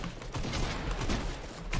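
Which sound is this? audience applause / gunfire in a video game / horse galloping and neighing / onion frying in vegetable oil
gunfire in a video game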